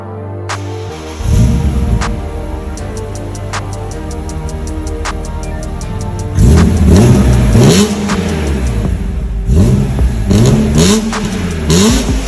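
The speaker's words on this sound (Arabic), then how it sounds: "وهلا راح نسمعكم صوت الاكزوست الجديد بعد ما تركب" A BMW E46 M3 inline-six with a newly fitted exhaust idles loudly, then revs hard in repeated rising and falling sweeps, with a louder stretch of throttle blips near the end, heard close and alone.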